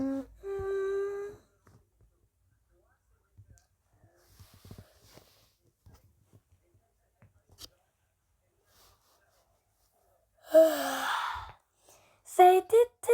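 A person yawns once in a long, drawn-out breath that rises and falls, standing out alone after a long quiet stretch, with a brief voiced sound just before and a few short vocal bursts right after.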